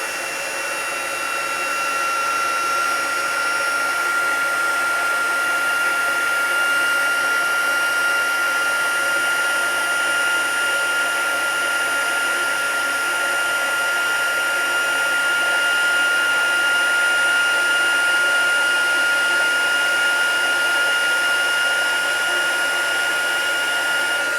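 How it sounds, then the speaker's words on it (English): A steady, high-pitched whirring blast of air from a heat gun used for card embossing runs continuously and evenly at close range. "let's bring out the heat gun. Hopefully it's not too loud, and we'll heat this up"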